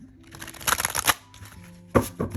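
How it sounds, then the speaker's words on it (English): Tarot cards being shuffled by hand, several bursts of riffling and sliding card noise, close and fairly quiet, with pauses between them. "And I'll give these a shuffle as well"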